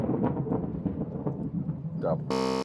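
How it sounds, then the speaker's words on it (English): Rumbling thunder follows a big lightning strike during a storm, with steady rain hiss underneath throughout and a brief louder burst near the end. "Oh, that was big lightning."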